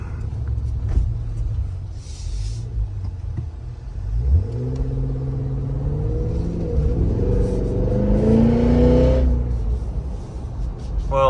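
A 2024 Cadillac Escalade V with a 700hp engine accelerates, its exhaust rumbling low and then rising in a climbing growl through the gears, close and loud throughout, with no speech.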